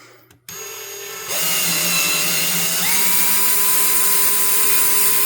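A power drill whirs steadily and loudly up close after a brief start, drilling into a 1976 Fender Bassman 100 amplifier, its pitch rising slightly as it runs on.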